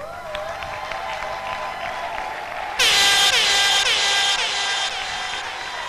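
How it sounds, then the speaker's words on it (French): Congregation applauding at a church celebration for a reverend's 70th birthday, a steady patter of clapping that swells louder midway with a bright sustained horn-like tone and cheering, then eases back. "Sous les applaudissements."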